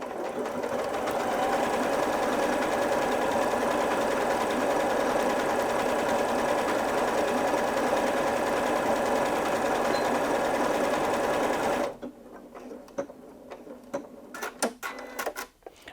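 A Janome Memory Craft 8200QCP SE sewing machine stitching a mirrored stitch pattern, a fast steady mechanical whirring that runs about twelve seconds and then stops, leaving faint clicks and handling noises.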